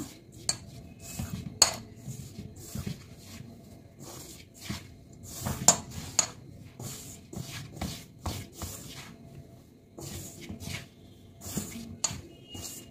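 Flour and ghee mixed by hand in a bowl for chandrakala gujiya, giving soft rubbing and scraping with light clinks and knocks against the bowl, irregular and fairly quiet throughout.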